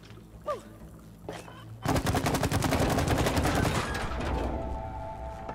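A rapid burst of automatic gunfire from the co-op game It Takes Two erupts after a couple of quieter bumps, firing steadily for about two seconds before trailing off into lingering rumble.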